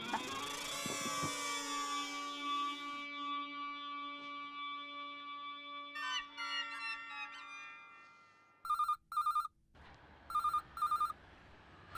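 A telephone rings in a home, first a resonant chiming tone that decays, then short electronic bursts in pairs separated by silence.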